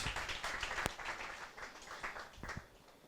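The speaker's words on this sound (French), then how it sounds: "on peut applaudir encore une fois" Applause from a small audience at a science café talk, scattered claps fading from moderate to thinner and quieter, with a few sharper individual claps standing out.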